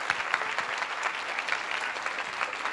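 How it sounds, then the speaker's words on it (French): An audience at an evening talk on early childhood nature education claps warmly, a dense, even patter of applause continuing steadily at moderate volume, heard from within the room. "Vous pouvez applaudir une nouvelle fois Élise Marieux"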